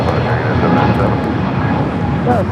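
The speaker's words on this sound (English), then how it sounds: "That's the A321 Neo flight heading to Tampa." An Airbus A321neo jet at LAX, a loud continuous engine roar filling the whole moment, with voices talking over it.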